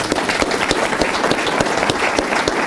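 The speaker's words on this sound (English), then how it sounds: "How about a big round of applause?" A Beaver County State of the County audience applauds local lawmakers. The clapping is dense and sustained, a steady wash of many hands filling the hall at even loudness throughout.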